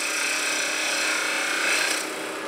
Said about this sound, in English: I think I'll take a moment and hone it with a diamond hone